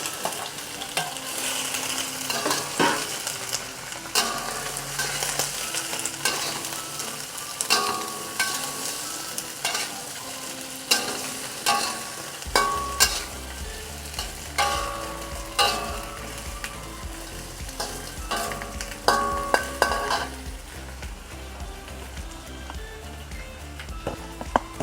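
Prawns stir-frying in a wok, a continuous loud sizzle broken by rhythmic scrapes and clatter of a spatula tossing them against the metal, close and busy throughout, no talking.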